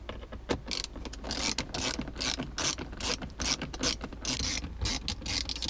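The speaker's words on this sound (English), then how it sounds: "I got a little palm ratchet on top of the screwdriver" A palm ratchet fitted on top of a screwdriver, used while changing the shifter knob and boot on a Gen 5 Camaro ZL1, gives close, loud clicking pawl ratchets in quick uneven bursts throughout, with no talk.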